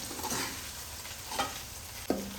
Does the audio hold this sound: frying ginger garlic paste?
yes